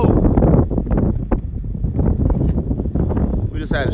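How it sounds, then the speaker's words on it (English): Strong gust of wind buffets the microphone outdoors by a carp fishing spot, loud broadband rumble throughout with people's voices mixed in and a brief sharp exclamation near the end. "Strong gust of wind came through and took the phone out."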